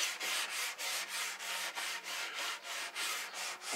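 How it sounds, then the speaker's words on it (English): A pad scrubs leftover epoxy and paint remover residue off a surface in quick back-and-forth strokes, about a dozen rhythmic close rasping rubs with no talk. "you're going to take this pad and you're actually going to rub off the remainder of it"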